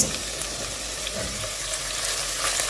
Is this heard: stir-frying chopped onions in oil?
yes